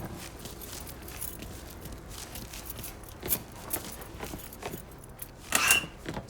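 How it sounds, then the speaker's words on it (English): Keys jangle in the video game Mafia 3, with a short bright metallic burst near the end, following a few softer clinks over a low ambient background. No one speaks. "grab those keys"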